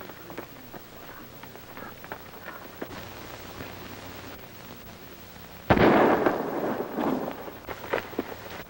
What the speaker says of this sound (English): That shot came from the other side of that arroyo.